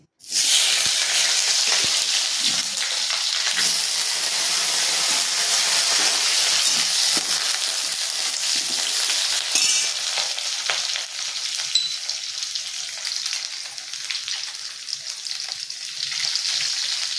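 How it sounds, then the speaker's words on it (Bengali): Potatoes fry in hot oil in a kadai, the same oil just used for bottle-gourd fritters, giving a loud, steady crackling sizzle that runs the whole time with no voices. "এবার আমি আলুটা ওই তেলেই ভেজে নিচ্ছি।"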